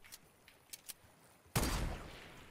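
Distant gunfire in the Fortnite video game: a few faint scattered shots, then one louder sharp report that decays into a short rumble.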